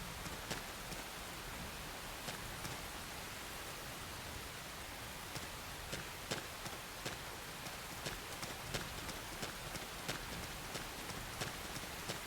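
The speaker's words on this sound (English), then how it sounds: "The rain's starting to let up" Steady rain hisses in the video game Xenoblade Chronicles X, a broad even wash with scattered sharper drop ticks, fairly quiet and continuous throughout.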